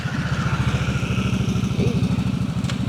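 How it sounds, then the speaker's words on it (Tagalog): A big motorcycle passes on a road at night with a steady, throbbing low engine rumble, close and fairly loud, with no speech over it. "Big bike."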